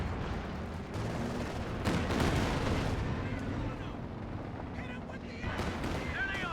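Artillery barrage pounding in a World War II strategy game battle with Axis forces and a Sherman tank, a continuous dense rumble of distant booms and crackling explosions that carries on under a commentator's voice.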